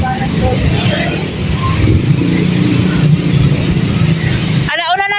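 Heavy traffic at about one in the morning. Engines of cars and buses rumble close by and vehicles pass steadily with a constant roar, while people walk alongside and talk under the noise.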